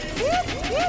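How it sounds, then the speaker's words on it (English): A police siren in the city-building game Cities Skylines 2 gives two rising electronic whoops within a second, fairly loud over a soft background hum. "That's the sound of the police."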